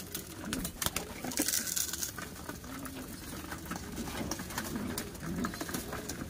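Pet pigeons coo softly while feeding, low repeated murmuring calls from a close flock mixed with pecking taps and light fluttering, fairly quiet throughout.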